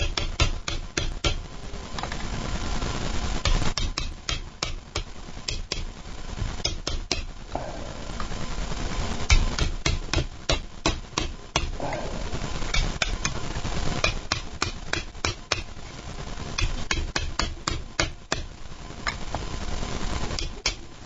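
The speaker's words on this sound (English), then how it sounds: "Chisel it out." Chiseling out material from a generator drive bay: repeated sharp metallic strikes in uneven bursts, close and fairly loud, continuing throughout over a steady background.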